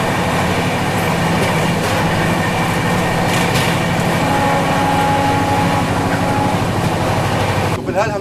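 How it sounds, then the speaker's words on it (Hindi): A Vande Bharat Express train passes on the railway, heard as a loud, continuous rush and rumble of rolling coaches with wheel clatter and faint squeals that persist throughout, ending with a brief burst of noise. "और ये थी रानी कमलापति वंदे भारत एक्सप्रेस।"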